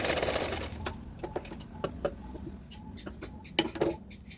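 A sewing machine stitching a katori blouse with a half-inch margin, sounding as faint, irregular mechanical ticks and short needle taps close up, with no voices.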